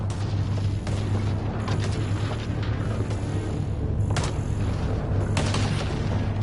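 Continuous gunfire and explosions from a firefight in the Mass Effect Andromeda video game on PS5, a dense, loud barrage with sharp cracks and booming blasts scattered throughout and no talk.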